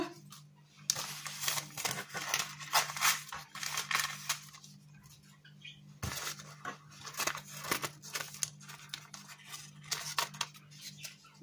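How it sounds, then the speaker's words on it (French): Scissors snipping away overhanging baking paper around quiche pastry in a home kitchen, a dense run of crisp close cuts and paper rustles in two bursts separated by a brief pause, under a steady low hum. "je coupe le papier qui déborde"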